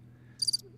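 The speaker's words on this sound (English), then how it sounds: "We have crickets." Cricket chirp sound effect: a short, high-pitched trill of three quick pulses over a soft low hum, clean and close.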